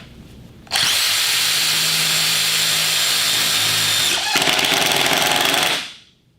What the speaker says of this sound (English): So you could hear it fast, and then it slows down to 750.